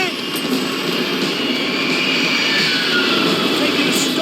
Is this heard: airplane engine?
yes